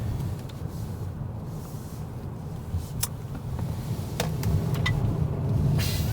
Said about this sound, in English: Let's throw into sport mode here and just chuck it into a corner.